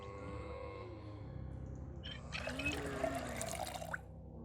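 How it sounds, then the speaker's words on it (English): In Project Zomboid, a kettle fills with lake water: a steady close pouring trickle runs for about two seconds and then cuts off, over a quiet game backdrop. "Now, I've filled up the kettle with water"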